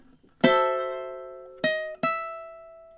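A ukulele plays measure 21 of a tune: one bright strummed chord rings out and decays, followed by two quick plucked chords, played close and alone.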